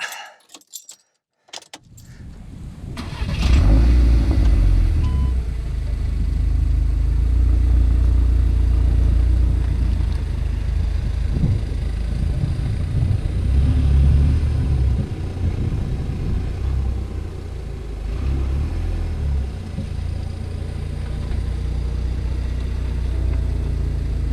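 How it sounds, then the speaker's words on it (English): A Scirocco R on newly fitted wheels and fat tyres rolls backwards and forwards, giving a steady low rumble that swells and eases. A brief clatter and a jangle of keys open it. "Let's roll the car backwards and forwards and see it come down on its suspension"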